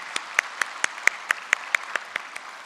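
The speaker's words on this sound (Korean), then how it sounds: "우리 축복의 박수, 하나님께 영광의 박수를 보내드리겠습니다." A church congregation claps in a Korean worship service, about a dozen evenly spaced claps in a steady rhythm, clear and moderately close with no talk over them.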